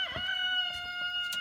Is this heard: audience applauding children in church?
no